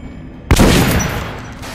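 A single loud, close gunshot from a weapon at a shooting range in the game Metro Last Light, sharp crack followed by a decaying rumble echo.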